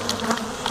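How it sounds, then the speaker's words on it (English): Aggressive killer bees swarm in a dense, loud buzz that fills the whole moment, close and continuous with shifting wingbeat tones. "these are some fucking aggressive bees"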